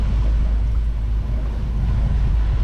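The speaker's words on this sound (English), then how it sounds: "Still motor sailing on the main only." Sailboat motor sailing on the mainsail only off Key West, with a steady low engine drone and soft wash of water and wind, continuous and fairly quiet.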